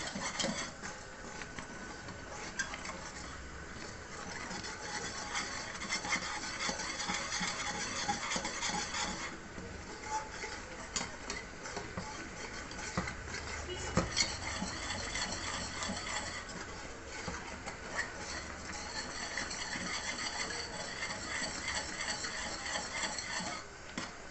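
A carrot milk dessert sweetened with jaggery is stirred steadily in a pan, a continuous scraping and stirring texture with faint sizzling running throughout, close and moderately loud with no voices.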